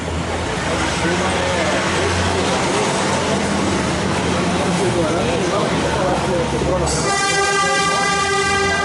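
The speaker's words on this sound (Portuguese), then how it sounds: "os caras gostam de uma buzina aqui" Outdoors in light drizzle, a loud continuous roar of passing traffic or rail noise fills the scene, then a sustained harmonic horn blast sounds near the end and holds to the close, with a voice faintly underneath.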